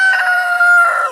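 Chanticleer roosters crowing in a drawn-out, strident call from a flock of five just let out of their winter coop, loud and close, with no talk over it.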